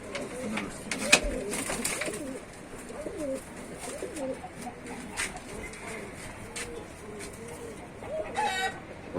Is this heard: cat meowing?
no